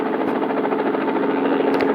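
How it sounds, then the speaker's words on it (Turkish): Military helicopters in a video game, a steady whirring rotor and engine drone that stays loud and close for the whole stretch with no talk over it. "Helikopterlere bak helikopterler artık askeri üstten ışınlanıyor."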